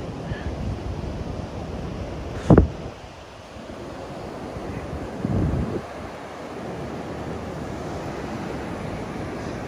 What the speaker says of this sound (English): You're on the beach.